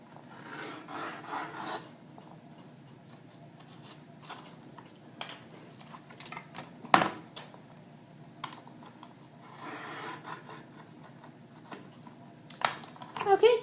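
A blade is drawn slowly through paper on a WeRMemory Keepers frame punch board, giving soft, scratchy rasping strokes in short bursts, close and quiet, with a sharp click partway through.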